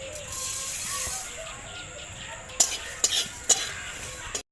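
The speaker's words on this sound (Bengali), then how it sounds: "এরপরে বাদ বাকি মশলাগুলো ভেজে নেব।" Spices for a jujube pickle frying in a pan, with a soft sizzle and occasional stirring scrapes, then several sharp clinks of a utensil against the pan near the end; no one speaks.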